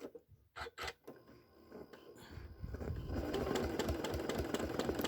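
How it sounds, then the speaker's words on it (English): A sewing machine stay-stitching through two layers of fabric with wadding for a postcard-sized scrap quilt, starting in short bursts and then running at a steady, dense, continuous whir, close and loud with no talk. "So again, I shall start with a few stay stitch"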